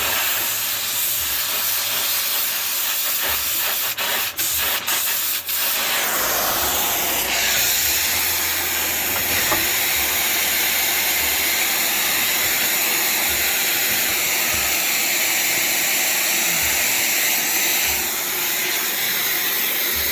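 A torch heats metal to bend it during a landscape trailer rear gate rebuild, giving a loud, continuous roaring hiss that shifts briefly partway through and then holds steady.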